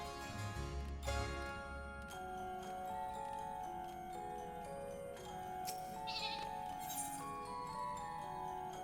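In-game sheep bleats from Final Fantasy XIV sound over layered background music, with a ticking, clock-like rhythm running through and a few brighter accents, all at a moderate, steady level.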